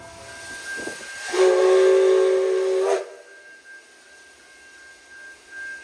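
Near the stopped Riverlander, a Velocity passenger train on the Bendigo service sounds a steady whistle for about a second and a half, loud and tonal, then the night settles into faint rumbling quiet.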